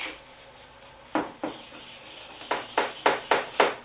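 Sandpaper rubbed by hand over a car bumper's chrome trim, a Town Car restoration: a few quiet strokes, then a rhythmic series of five or six firm rasping scrubs, close and alone.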